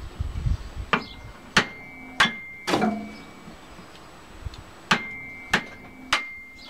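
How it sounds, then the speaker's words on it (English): A hammer strikes a hardy to split wood, giving sharp metallic blows with ringing overtones, seven spaced hits at an uneven pace, close and clear with no talking. "grab yourself a hammer, and you can split your wood"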